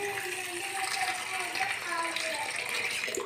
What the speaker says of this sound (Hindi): सब्जी को वॉश कर लेते हैं।